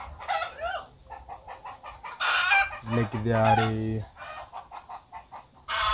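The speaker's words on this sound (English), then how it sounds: "there are some dogs disturbing hens." Free-roaming village hens cluck and squawk in agitated bursts, disturbed by dogs, with a rooster crowing in the middle; the calls are close and loud, with a brief spoken word among them.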